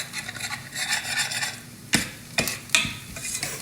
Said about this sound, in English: Stirring the onion, stirring the onion.